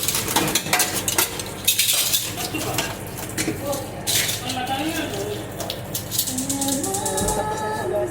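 Plates and cutlery being washed by hand, with dense, continuous clinks and clatter of dishes close by, running water or spray beneath, and people chatting casually throughout.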